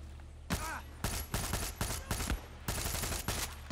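Heavy gunfire in the Far Cry 6 video game comes in loud, rapid bursts and volleys, roughly one each half second, up close, with no talk.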